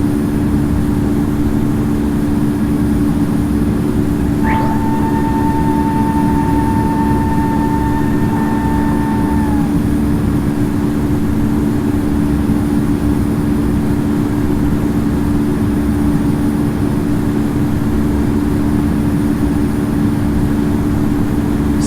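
A Spirit Airlines Airbus A320 takes off from Los Angeles LAX, its engines a loud, constant low roar that fills the whole stretch, with a brief whining tone partway through.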